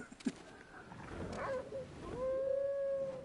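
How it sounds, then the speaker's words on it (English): Puppy mount howling while flying in Final Fantasy XIV, a faint, drawn-out howl that rises and then holds a steady wavering tone over about two seconds, preceded by softer game sounds. "And he howls when you fly."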